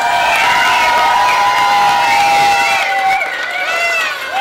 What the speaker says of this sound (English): let's give a big round of applause for that